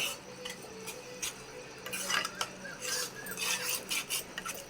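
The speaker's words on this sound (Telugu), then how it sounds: "ఇలా వేసుకున్నాక కలుపుకోవాలి బాగా." A spoon stirs ginger garlic paste into an egg tomato curry in a pan, soft scraping and clinking strokes repeating irregularly, quiet and close with no speech.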